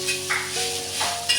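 Chutney made from fresh pigeon pea (tur) beans, with turmeric and salt added, is stirred and sautéed in a pan. Close, steady sizzling runs under scraping spoon strokes, with no voices.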